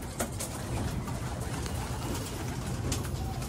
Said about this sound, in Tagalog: At ito yung ating mga ibon par.